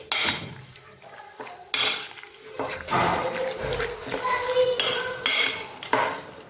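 Marinated chicken breast pieces being mixed in a bowl, a busy run of wet squelching, scraping and clinking of utensils against the dish, close and fairly loud with no speech.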